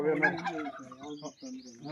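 Turkeys gobble repeatedly nearby, rapid warbling bursts overlapping with higher chirps from other birds.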